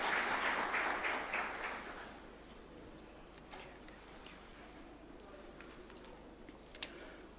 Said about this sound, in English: A round of applause, please, as he approaches the swearing-in arena.